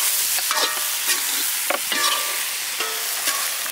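Goat blood and intestine fry stirred in a pan with coriander leaves and coconut oil, with a steady sizzle broken by repeated scraping strokes of a spoon, loud and close.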